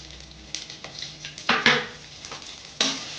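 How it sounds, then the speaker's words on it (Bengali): Chopped onion goes into a hot pan with oil and bay leaf for frying, giving a few soft clattering knocks and brief sizzling bursts at close range with no talking. "এবার আমি পেঁয়াজ কুচিটা দিয়ে দিলাম"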